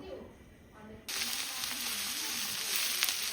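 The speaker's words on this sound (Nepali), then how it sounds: "यहाँ अब यो तेल हालेर यहाँनिर प्याजलाई खराउन आँटेको" Onions drop into hot oil for chicken biryani and a loud, continuous sizzle bursts in after a quiet first second. The sizzle then carries on steadily, close and alone.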